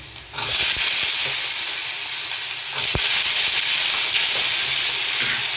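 Potato pieces sauté in hot oil with onion and turmeric in a pan for Marathi methi bhaji, giving a loud, close, continuous sizzle with a brief stirring knock partway through.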